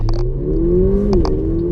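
Mercedes-AMG car with a 4-litre twin-turbo V8 revving hard above 3,000 RPM while accelerating: a loud, steady engine drone with rising pitch, heard close from inside the car, with a few brief clatters over the top.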